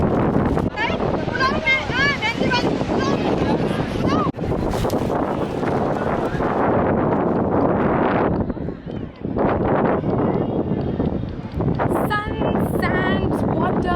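Strong wind buffeting the microphone on a boat ride off Mumbai, loud and continuous rushing with water and engine noise beneath, and people talking over it.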